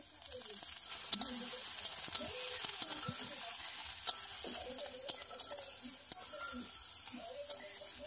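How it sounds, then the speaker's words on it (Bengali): Quiet sizzling of onions frying in hot mustard oil with scattered scraping and stirring clicks, fairly soft, with some tonal background sound running underneath. "গরম হয়ে গেলে কেটে রাখা পেঁয়াজগুলো দিয়ে হালকা ভেজে নেব"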